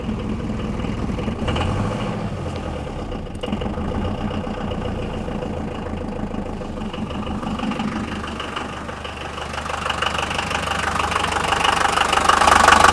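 An old Mercedes 180D diesel engine idles steadily with a rough, knocking clatter, alone and close, growing somewhat louder toward the end.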